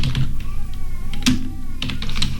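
Rapid typing on a computer keyboard while editing a Photoshop template, steady clustered key taps running throughout at close range with a faint voice briefly audible underneath.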